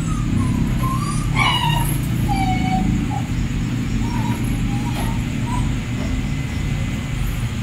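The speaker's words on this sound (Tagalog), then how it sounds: "Parang takot na takot yung aso." A dog whimpers and yips in a series of thin, high cries over a steady low rumble of background noise, like traffic or an engine.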